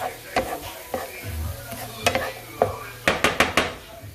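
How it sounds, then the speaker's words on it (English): Onions sautéing over medium-high heat for chili beans, a soft sizzle under repeated sharp clinks and scrapes of a utensil against the pan, with a quick cluster of taps near the end. "you just want to saute this till the onions are like translucent a little bit"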